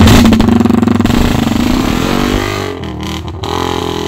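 A motorcycle engine under repair revs hard and close, a rapid pulsing throb that climbs and wavers, with brief choppy cut-outs toward the end.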